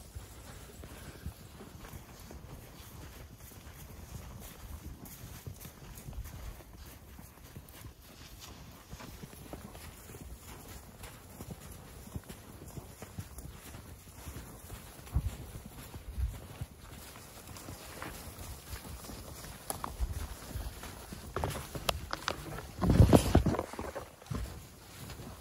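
A horse ridden through knee-deep fresh powder snow, its steady plodding footfalls crunching and shuffling close by in an irregular walking rhythm, growing louder toward the end, with no talk over it.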